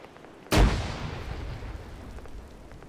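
A frag grenade detonates in an Arma combat scene, one heavy, sudden blast with deep low rumble that rolls off slowly into a lingering reverberant tail over background noise.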